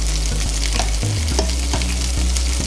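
Onions sizzle steadily in a pan on an induction hob, a continuous close frying hiss broken by a few soft clicks and stirring knocks, with no talking.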